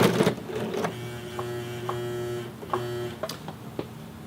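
A small sewing machine strains against the thick hem of Levi's 550 denim jeans, its motor whining steadily with uneven mechanical hum and a few sharp clicks and knocks as the needle labors, fairly close and alone.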